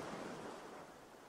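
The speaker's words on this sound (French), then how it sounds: "Ce bruit de l'eau, encore, vous aide et vous accompagne" Soft, continuous wash of sea water, a faint, even rushing surf with no distinct waves or voices.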